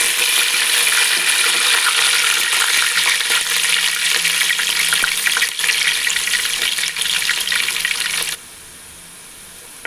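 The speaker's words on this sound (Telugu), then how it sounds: "ఆనియన్స్ ఈ విధంగా గోల్డెన్ కలరు వచ్చే వరకు బాగా డ్రై చేయాలి" Sliced onions and curry leaves frying in hot oil over mustard, cumin and fenugreek, a dense, loud, steady sizzle with faint stirring that stops abruptly near the end, leaving near quiet.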